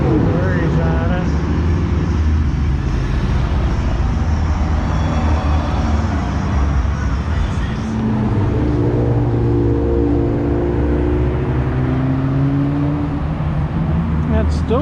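A car pulling away and accelerating hard on Woodward Avenue in the evening, engine note climbing in pitch, with steady nearby engine rumble from the car carrying the recorder.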